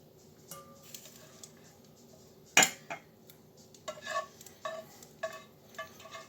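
Tongs lifting cooked beef out of a pan, with a sharp metallic clack and scattered soft clinks, scrapes and wet squishes over a quiet background.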